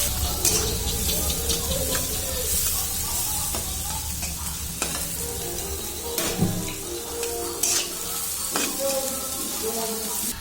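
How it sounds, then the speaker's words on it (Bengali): Onion, garlic and green chili fry in hot oil with a continuous close sizzle, while spatula scrapes and clinks of stirring rise above it now and then. "এবারে যে তেলে পেঁয়াজ দিব, রসুন পেঁয়াজ সব একসাথে দেবো।"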